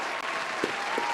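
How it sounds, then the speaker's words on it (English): A small hired crowd gives a short burst of applause at a talk-show style taping. The clapping is steady and fairly close, with a couple of faint whoops, and lasts only a moment. "Let's applaud to that."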